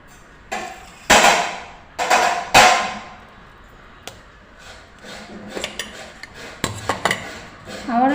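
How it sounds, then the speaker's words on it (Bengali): A spoon clatters against a bowl while rice-flour pitha batter with jaggery is mixed, with several sharp knocks and scrapes, then softer stirring taps, close and fairly quiet. "আবারও এটাকে একটু ভালো করে মিক্স করে নেব।"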